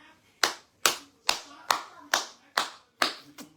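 Two hands clap eight times in a steady, even rhythm, each clap crisp and close, with brief silence between them and no voices.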